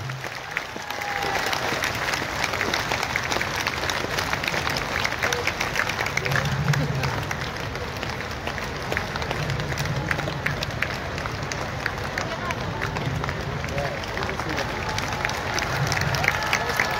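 A large crowd at the outdoor Arunachal Prayer Festival at IG Park, Itanagar applauds continuously, a steady dense roar of clapping with murmurs beneath that holds at an even level throughout.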